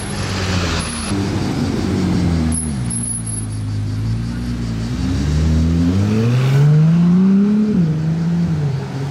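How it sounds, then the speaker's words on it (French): A V6-engined car revs and accelerates close by, its engine note climbing and dipping in pitch through several pulls, loud over faint background noise. "J'adore le bruit de son V6 à cette voiture."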